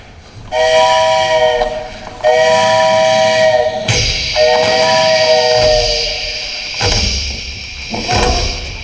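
A train whistle sound effect blows during a stage show, three long harmonic whistle blasts with hissing steam between and after them, loud and close, with no talking.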